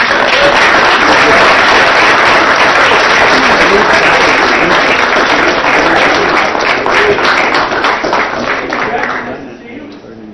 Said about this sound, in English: Let's give our new members a round of applause.